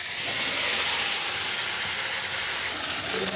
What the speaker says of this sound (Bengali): যে মিক্সির বাটিটার মধ্যে পেঁয়াজ আদা রসুন বেটেছিলাম, কাঁচা লঙ্কা, সেটা আগে দিয়ে দিলাম।